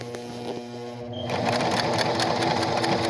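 Singer 2517C sewing machine starting to stitch, a steady mechanical whir and rapid needle chatter that rises and holds loud and close after the motor speeds up.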